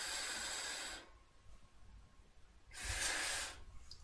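Vaptio Solo Flat vape kit firing automatically on inhale: two soft, breathy hissing draws, one about a second long and another shortly after, close and quiet with near silence between.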